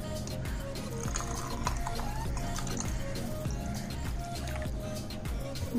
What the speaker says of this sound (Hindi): अब इसमें हम ऐड करेंगे ठंडा पानी।